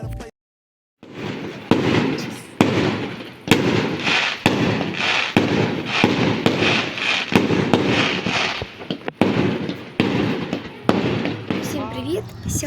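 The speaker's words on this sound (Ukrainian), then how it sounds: "А під кінець дня е, ми застали салюти." Rapid fireworks bursts crackle and boom continuously at a seaside resort in Bulgaria, some sharp and close, others rumbling, with voices talking faintly in the background.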